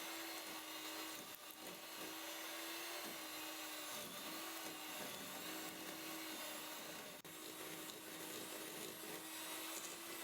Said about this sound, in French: Ensuite, je vais venir donc me servir d'un batteur.